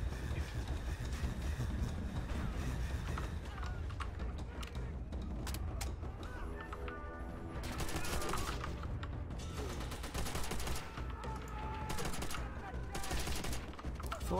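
Bursts of enemy gunfire in the World War II shooter Call of Duty: World at War, with dense, sustained automatic fire and mechanical clatter filling the whole stretch, loud and close, with no speech over it.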